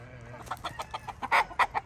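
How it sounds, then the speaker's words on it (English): Free-range chickens on a ten-acre homestead cluck in a rhythmic run of short calls, growing louder and closer toward the end, with a low steady hum underneath and no talk. "You can see all of the free-range chickens hanging out here."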